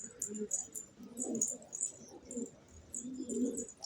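Pigeons in a loft coo in low, soft rolling bursts, mixed with faint higher chirps and tweets, quiet and close with a light background hiss.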